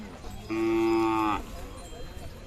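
A Khillar cow at the Chadchan cattle fair gives a single loud, sustained moo of about a second, close by, with a low rumble of fair crowd noise around it.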